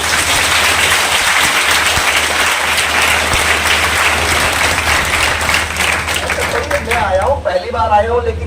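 A large crowd at a poetry gathering in Udaipur applauds with raised hands, a loud and dense clatter that holds for several seconds. Near the end it becomes more ragged as a voice speaks over the fading claps.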